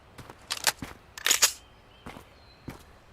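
Gunfire in the video game Road to Vostok, several sharp shots in quick bursts, close and loud, with short gaps of quiet between them.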